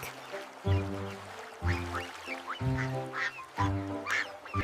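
Four loud quacks in a row, evenly spaced and close by, each a nasal duck-like call with brief pauses between.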